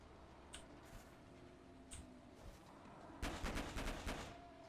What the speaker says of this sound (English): Also, who was shooting?